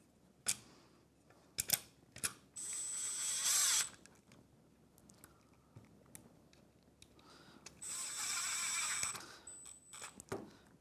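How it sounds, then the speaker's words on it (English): A power drill runs screws into an E-PLEX 7900 mortise lock, two sustained whining bursts of a couple of seconds each, separated by clicks, taps and handling noise, close and fairly quiet. "run my screws in"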